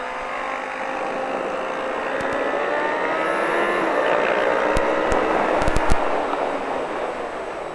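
A KTM Duke motorcycle engine roars at full throttle, a loud sustained whine rising in pitch with rushing wind noise and a few sharp clicks.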